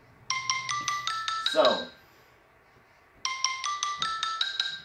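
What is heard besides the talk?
phone ringtone from incoming call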